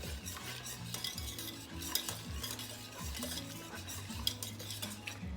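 Spoon stirring black pepper into a thickening shrimp and crab bisque in a pot, a steady run of soft scraping and clinking strokes with occasional sharper taps against the pot, close and continuous with no talk.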